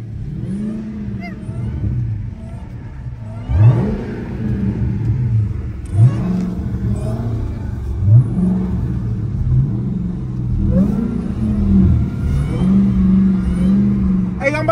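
A Dodge Charger Hellcat's engine rumbles loud and close while driving on black ice, with repeated rev surges every couple of seconds rising and falling over a steady low growl.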